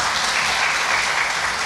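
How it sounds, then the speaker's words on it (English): An audience at a community event applauds, a steady wash of many hands clapping at even loudness throughout, heard from within the crowd with no break. "Please give them a round of applause."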